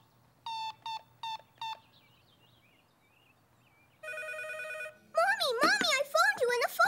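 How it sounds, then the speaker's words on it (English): A cartoon telephone rings in four short, evenly spaced bursts, followed by a steady electronic tone, and then a voice starts talking. "I phoned you and the phone rang."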